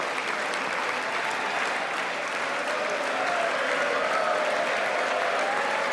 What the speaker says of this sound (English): Oh my God, they're clapping for really long.